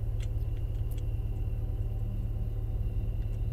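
A car drives along a road in the horror video game Fears to Fathom, giving a steady, loud low engine rumble with a faint ticking pattern running throughout.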